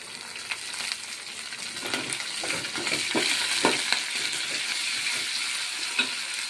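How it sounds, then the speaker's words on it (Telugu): Curry leaves and tempering spices frying in hot oil for a cucumber and sesame chutney, a steady close sizzle with scattered sharp crackles and pops throughout. "పోపు దినుసులు కొంచెం వేగిన తర్వాత కరివేపాకు వేసుకుందాం"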